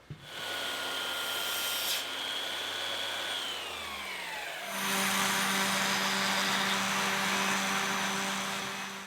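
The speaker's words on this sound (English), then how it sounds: "After 80 grit in the orbital sander, I used 150 grit in the palm sander, and then 220." An orbital sander fitted with 80 grit sandpaper works over wooden spatulas. It gives a steady, close motor whine that drops in pitch partway through, then settles into a louder, rougher drone, with no talking.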